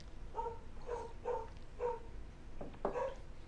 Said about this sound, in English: I hear Jack barking.